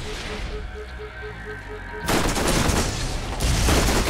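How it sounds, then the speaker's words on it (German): In the shooter game Borderlands, a grenade blast and gunfire build into a dense, loud wall of rumbling booms and rapid shots that sharpens halfway through and keeps going without a break. "Ich hab aus meiner Leiche noch eine Granate rausgeworfen"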